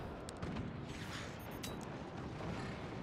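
Artillery fire in the Forts strategy game, a dense, continuous rumble of blasts and booms with no clear pauses, steady and moderately loud across the whole moment, no voices.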